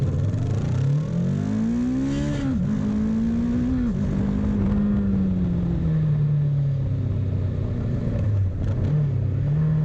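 Honda CBR500R sport bike engine revving steadily, a loud, close, continuous drone whose pitch climbs, dips sharply around two seconds in, then holds high and slowly sags, with brief blips near the end; no talking.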